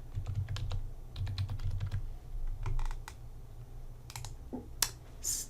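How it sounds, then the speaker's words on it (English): Someone types on a computer keyboard, entering a callback number as a quick run of soft, close key clicks in uneven bursts over a low background hum, with a few sharper clicks near the end. "Type in a callback number."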